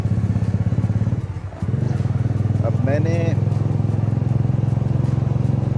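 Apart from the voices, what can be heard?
motorcycle being test ridden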